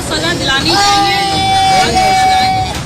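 An angry crowd at the scene of a killing, a dense, loud hubbub of many overlapping voices with shouts and a sustained wailing tone rising over the babble.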